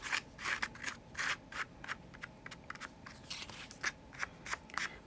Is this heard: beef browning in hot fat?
no